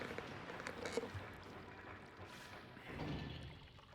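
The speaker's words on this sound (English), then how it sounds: "Wow, water." Water in the video game Twilight Princess: a faint pouring, sloshing water effect with a few soft thuds, swelling briefly near the end over a quiet game background.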